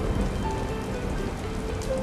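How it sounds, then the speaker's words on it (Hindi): Heavy rain pours steadily in an animated story, a dense continuous patter on a surface with no letup and no voices over it. "बारिश अब भी उसी रफ्तार से बरस रही थी।"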